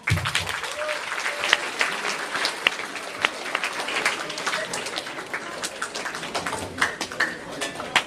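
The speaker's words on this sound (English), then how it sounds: "I want you guys to give yourselves a round of applause" Middle school students at an assembly applaud, a loose, uneven patter of many hands with sharp individual claps and scattered voices mixed in.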